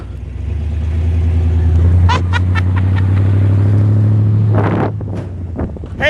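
A car engine runs with a strong, steady low rumble close by, while gusts of wind buffet the microphone and a few sharp flapping noises break in near the end.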